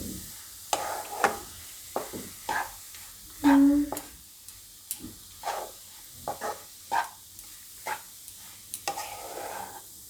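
A spoon scrapes and clinks while stirring bajra churmu, a crumbly millet-flatbread sweet, in a pan over a low gas flame. The irregular close taps and scrapes come with a faint sizzle beneath.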